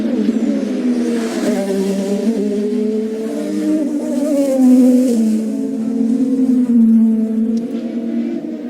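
An IndyCar at full throttle howls on a Detroit street circuit during the Chevrolet Indy Dual, a loud, sustained engine note that climbs and shifts in pitch.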